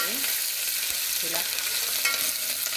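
Curry leaves frying in hot oil for katte pongali, a brief, steady close sizzle with light crackling and no talking.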